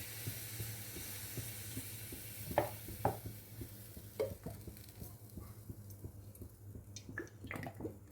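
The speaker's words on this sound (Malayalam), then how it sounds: "രണ്ട് മൂന്ന് സ്പൂൺ സൺഫ്ലവർ ഓയിൽ ഒഴിച്ചിട്ടുണ്ട്. അതിലേക്ക് കടുകിട്ടു" Mustard seeds dropped into two or three spoons of hot sunflower oil for mango pickle give a soft, steady sizzle with scattered small pops and crackles, close by and fairly quiet.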